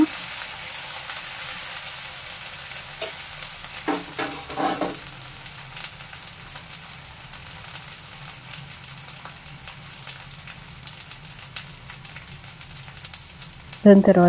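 Coriander leaves fry in oil for a snake gourd curry, giving a steady soft sizzle with a few louder crackling bursts near the middle and a sharp flare at the very end.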